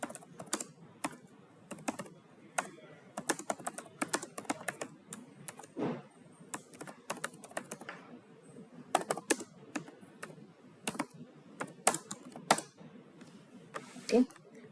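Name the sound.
typing Java code on computer keyboard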